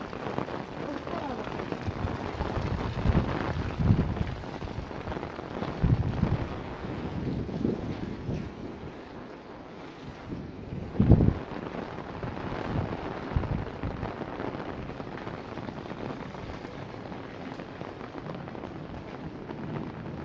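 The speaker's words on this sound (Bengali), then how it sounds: "প্রচুর বৃষ্টি এই মুহূর্তে প্রচুর বৃষ্টি" Steady heavy rain hisses continuously on a house rooftop in Dhaka, with gusty wind buffeting the microphone and a person talking intermittently over the downpour.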